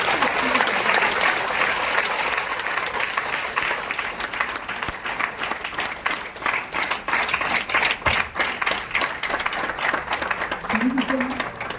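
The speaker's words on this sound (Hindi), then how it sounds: "तो आप सभी लोगों को दिल से एक बार अपने लिए जोरदार तालियां" An audience at a gathering breaks into loud applause, thick overlapping clapping that stays strong throughout and grows slightly more rhythmic toward the end, with no talk over it.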